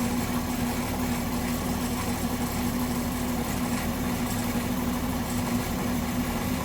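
A 1967 Ford Mustang V8 engine, suspected of running rough from a faulty balancer, idles steadily, a smooth continuous hum with a droning low tone and no revving.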